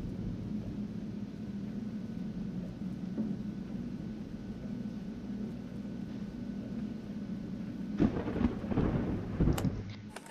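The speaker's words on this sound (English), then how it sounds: "Thunderstorms." Thunderstorm ambience in the horror video game Darkness Within, set in a cabin at night: a steady low rumble of rain and distant thunder runs throughout and swells into louder, crackling thunder near the end, with no voices.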